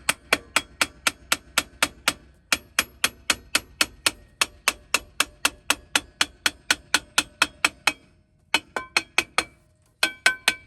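Rapid, steady metallic hammer taps on a wheel stud of a Toyota 4Runner ring out one after another, sharp and close, with two brief pauses before the tapping resumes.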